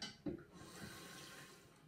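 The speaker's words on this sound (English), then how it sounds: "I'm gonna rinse now." Tap water runs into a sink for rinsing during a wet shave with a vintage 1957 Gillette Super Speed razor, a short close gush that settles into a steady, soft flow, with no talking.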